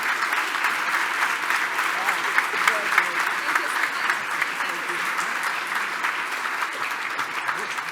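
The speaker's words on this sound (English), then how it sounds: "Give her a round of applause." Sustained applause from a large crowd at a democracy awards ceremony, steady dense clapping at a constant strong level with scattered voices mixed in.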